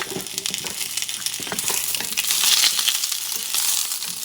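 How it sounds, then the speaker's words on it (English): Mushrooms and peppers sautéing in a hot pan, a steady loud sizzle that swells midway, with scattered scrapes and taps as the vegetables are stirred. "Mushrooms and peppers. And you're going to saute them"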